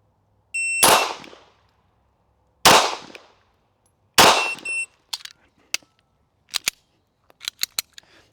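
Three sharp competition handgun shots ring out about two seconds apart, each with a bright ringing tail, followed by a run of lighter metallic pings and clangs from steel targets.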